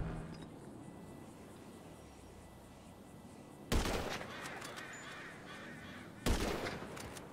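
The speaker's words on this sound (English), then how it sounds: "I'm getting sniped." Two distant sniper rifle shots ring out in the multiplayer game GTA Online's Drop Zone adversary mode, each a sharp broadband crack with a short tail, spaced a few seconds apart over a low game ambience.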